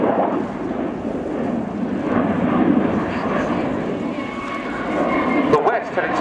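Sukhoi Su-27 fighter jet flying at an airshow, a steady loud roar of jet engines that swells slightly and holds throughout, with someone talking over it.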